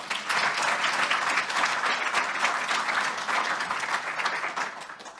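Conference audience at a plenary session applauding steadily for about five seconds, a dense, close wash of clapping that tapers slightly at the end.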